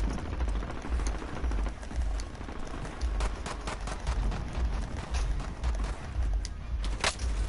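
Automatic gunfire from the Warzone video game sounds in repeated rapid bursts throughout, with players' voices faintly underneath.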